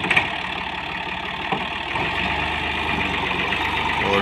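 A 2019 Massey Ferguson 260 tractor with disc brakes idles nearby, a steady loud diesel rumble holding an even beat throughout, with a faint voice mixed in.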